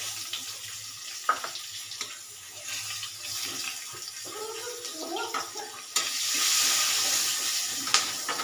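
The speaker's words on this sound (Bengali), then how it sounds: "কিছুটা কালো জিরে আমি ফোড়ন দিয়ে দিলাম, কাঁচা লঙ্কা ফোড়ন" Black cumin seeds and green chilies hit hot oil for a spicy eggplant dish, giving light crackles and clinks that swell into a loud, steady sizzle near the end.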